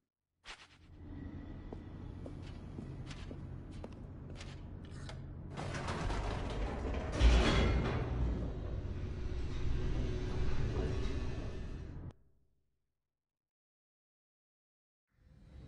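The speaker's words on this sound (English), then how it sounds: "The elevator raced downward, plummeting towards an unknown fate." An elevator descends in a video game with a steady mechanical rumble and gear-like clanking and creaking, growing louder midway, then stopping abruptly into silence.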